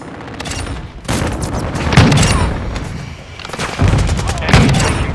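Dense gunfire and blasts in a military shooter video game, overlapping rapid shots and heavy booms in continuous loud bursts with no clear pauses.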